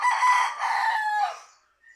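A rooster crows once, loud and close, in a drawn-out cock-a-doodle-doo that trails off, with a brief faint chirp just after.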